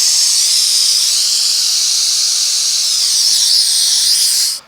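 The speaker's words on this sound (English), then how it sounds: "We'll bleed that nitrogen off of there." Nitrogen pressure bled off from car A/C system hoses on a Cadillac 472 500 during an A6 compressor replacement, a loud, steady high-pitched hiss held for several seconds before cutting off abruptly.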